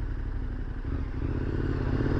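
A motorcycle engine rumbles steadily at close range with a low, continuous throb and some clatter, held at an even level without talk.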